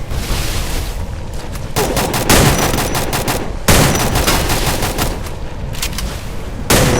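Sustained automatic fire from an EVO AK47 in the battle-royale game Free Fire, loud and close. The bursts run nearly continuously with a few short breaks and a sharp jump in level at each new burst.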